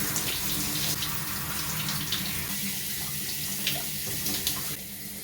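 Steady running water from a tap or shower while conditioner is rinsed out of damaged hair, a continuous close splashing gush with no breaks and no talking.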